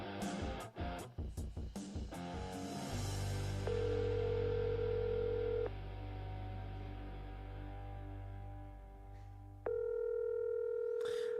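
A phone call to a sports correspondent rings out unanswered: a few dialing clicks and tones, then a steady electronic tone with intermittent higher ringback beeps, faint and continuous.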